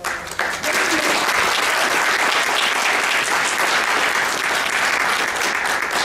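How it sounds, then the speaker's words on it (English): A workshop audience at an annual history conference breaks into a full round of applause that swells quickly and holds steady and loud, many hands clapping at once in a meeting room. "give Seth a big round of applause"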